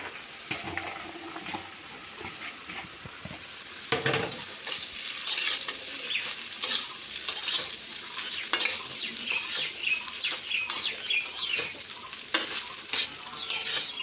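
Steady sizzling of sago frying in a pan, with repeated scraping and clinking as it is stirred, close up and fairly loud throughout.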